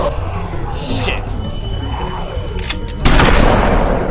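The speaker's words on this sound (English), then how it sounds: "Dude, it's a shotgun!" A shotgun blast hits loud and sharp near the end, its boom spreading into a rough decaying tail after a stretch of muffled background noise and a few fainter bangs.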